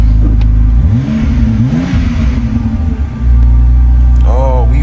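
A BMW E90 engine cranks and catches, then revs up loudly twice in rising and falling sweeps before settling into a steady, close idle. A brief voice comes in near the end.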